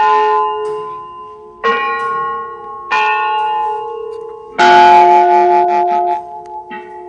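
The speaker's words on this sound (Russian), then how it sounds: "Сейчас я вам дам сравнить звучание русских колоколов и голландцев." Russian bells of the Peter and Paul Fortress clock tower ring out in four loud, resonant strikes, each leaving a long sustained hum before the next, the last one fuller and followed by quicker lighter tones.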